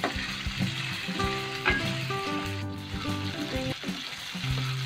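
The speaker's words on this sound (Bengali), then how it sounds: "এরপর 3-4 মিনিটের মতো একটু নেড়ে নেব।" Chopped green chilies frying in oil for chilli chicken, stirred over high flame, a continuous sizzle under irregular clinks and scrapes of a utensil against the pan, near and without speech.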